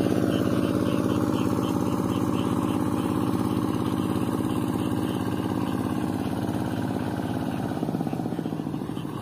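A tractor engine driven by the village head runs steadily and loud and close, a dense chugging mechanical drone with rattling clatter, holding the same level throughout and easing slightly near the end.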